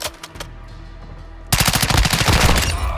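Machine gun fire in Call of Duty Modern Warfare 2 breaks out after a faint, quiet stretch with a few soft clicks, then rattles on as a loud, rapid, continuous stream of close shots to the end.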